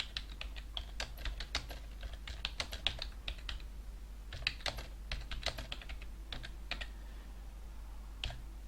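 Fingers type text on a computer keyboard in bursts of quick close clicks with short pauses, over a low steady hum and no speech.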